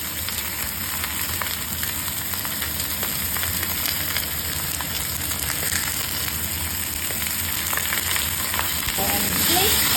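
Fish sizzling and spitting in hot oil in a pan, being fried for soup; a loud, continuous crackling fry with occasional stirring scrapes, close up and without speech.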